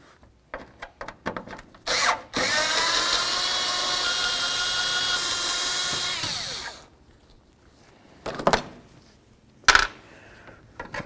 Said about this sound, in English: We're going to use a Phillips head screwdriver on the 4 mounting bolts.